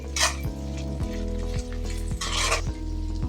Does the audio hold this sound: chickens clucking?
no